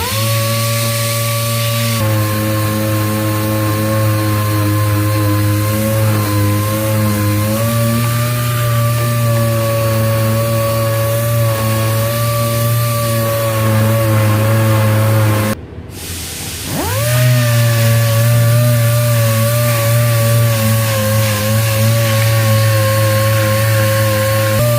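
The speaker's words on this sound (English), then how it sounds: "Now I'm back on the other side, sanding the glass." Loud, steady whine of a power sander grinding continuously on the glass of a Cutlass car, briefly stopping and spinning back up before running on.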